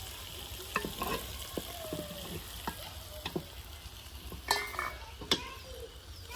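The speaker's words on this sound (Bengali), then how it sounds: "তো মাছগুলো আগে কষাই নিতেছি" Fish pieces fry in a pan for a cucumber curry under a soft steady sizzle, with intermittent spatula scrapes and clicks against the pan, close but fairly quiet.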